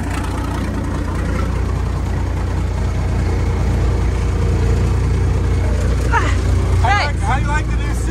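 An old 6x6 truck engine runs steadily outdoors with a heavy, loud low rumble throughout, while a few squeaky chirps rise over it near the end.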